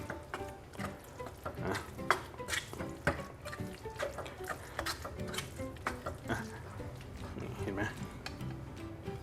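Minced pork stirred in a pan for northern Thai larb khua, with wet, sloshing scrapes and clinks repeating irregularly and close up as the meat absorbs blood; someone talks over the cooking.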